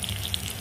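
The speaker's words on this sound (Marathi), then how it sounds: "चांगली तेलात कारली परतून घ्यायची" Bitter gourd pieces fry in hot oil in a pan, giving a brief, close, steady sizzle with crackly hiss throughout.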